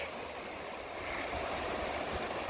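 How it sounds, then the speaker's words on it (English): A beck, the River Wibble in a Yorkshire village, flows steadily with a continuous broadband rush of running water, close and unbroken, with no voices over it. "That's the beck"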